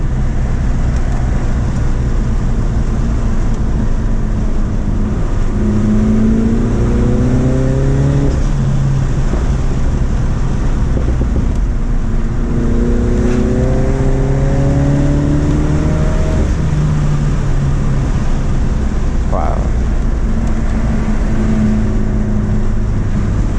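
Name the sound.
Dinan-tuned Mini Cooper JCW F56 accelerating in third gear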